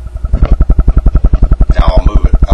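A Wavetech infrasonic generator's flexible tip is pressed against a microphone at about 7 Hz, giving a loud, steady train of rapid low thumping pulses; a brief breathy hiss rises partway through.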